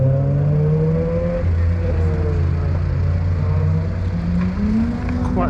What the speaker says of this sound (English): you can see the cars just coming around